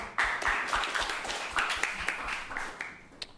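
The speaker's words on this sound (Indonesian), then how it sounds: "Tepuk tangan dong yang Gemini dong" Scattered clapping from a small portion of a live comedy audience, a few uneven bursts of hand claps that thin out over a few seconds.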